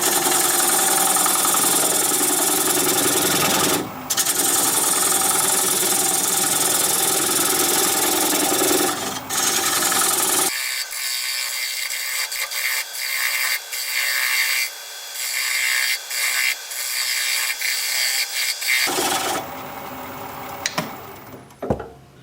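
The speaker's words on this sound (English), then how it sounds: "Turn the speed up to about 600 RPM. I'm going to take a 3/8 inch bowl gouge and commence to removing that tenon." Wood lathe spinning at about 600 RPM while a 3/8 inch bowl gouge cuts away a tenon on a turned wooden bowl, a loud steady whirring scrape with a quieter stretch midway.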